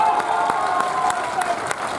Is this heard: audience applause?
yes